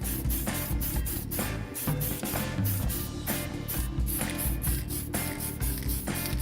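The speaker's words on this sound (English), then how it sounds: "now that the masking is done, we'll go spray black" Spray painting black paint onto a masked figure's head at a convention booth, a continuous loud aerosol hiss broken by short pauses between bursts, close to the microphone.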